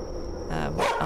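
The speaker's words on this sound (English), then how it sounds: "Your dog is really loud." A dog in the horror game The Karaoke barks loudly, giving one or two sharp barks close by in a very brief burst.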